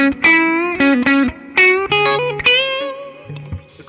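Clean electric guitar notes on a 2010 Gibson Les Paul Baritone Buckethead Signature chopped on and off abruptly by a kill switch, producing loud clicky stutters between sustained tones.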